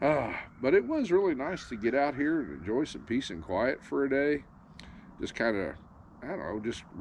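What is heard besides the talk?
None of the usual background noises is heard.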